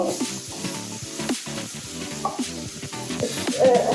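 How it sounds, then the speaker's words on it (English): Rice fries in a pan for mushroom risotto while being stirred, giving a continuous loud sizzle with scraping, rhythmic stirring strokes close up and no voices. "Then we mix that up. Make sure you don't burn the rice."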